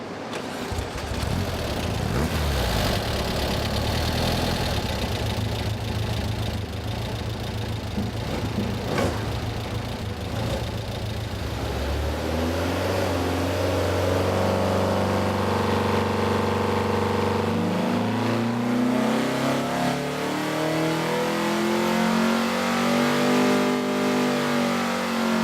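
A Volkswagen Kombi van engine revs on a chassis dyno, a steady loud roar that climbs smoothly in pitch over about twenty-five seconds as the run builds, close to the microphone with no voices.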